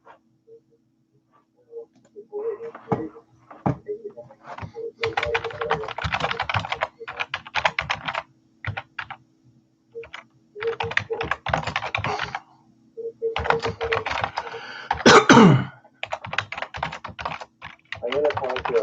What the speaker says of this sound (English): can see me typing on my keyboard